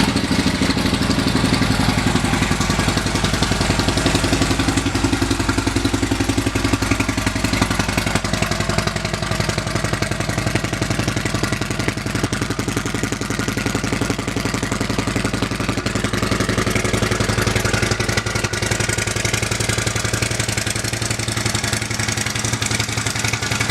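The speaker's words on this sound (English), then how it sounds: "Let's listen to the exhaust." A 2015 Harley-Davidson CVO Limited motorcycle with about 4,000 miles idles at a dealership, its exhaust giving a loud, steady, dense rumble throughout with no talk.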